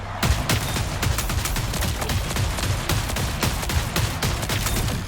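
Demolition HMG heavy machine gun firing in a video game, a loud, continuous stream of heavy shots at a steady, slow-to-moderate cadence for the whole stretch, close and alone with no talking.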